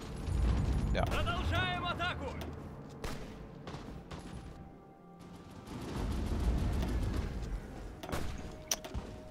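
Shore bombardment in the Hearts of Iron 4 strategy game, heard as a dense wash of booming artillery fire and rumbling blasts that rises and falls across the whole stretch, mixed with a brief spoken word.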